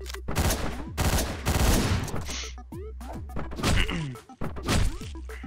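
Gunfire in the Hotline Miami game, loud punchy shots and thwacks fired in rapid, uneven clusters amid crashing impacts and chaotic game sounds.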